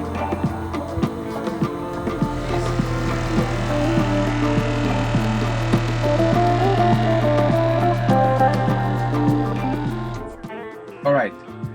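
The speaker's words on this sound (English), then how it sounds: "let's turn it on and we should immediately hear the pump working." A van's fresh water system pump hums steadily with a pulsing throb for about ten seconds, then cuts off, leaving near silence with a faint knock.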